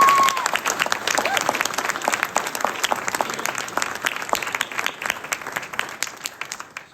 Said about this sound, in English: let's give a round of applause to our CSM